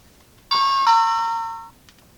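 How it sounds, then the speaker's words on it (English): A toy dollhouse doorbell rings with a clear two-tone ding-dong chime, bright and close, its second tone lingering and fading over about a second with no talking. "if I go around the other side and ring the doorbell,"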